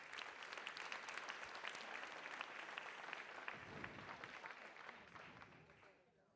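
Audience applause at a circus-themed evening event, a sustained wash of many hands clapping close and full, tapering off over the last second.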